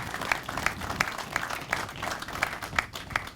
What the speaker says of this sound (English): We can certainly applaud that.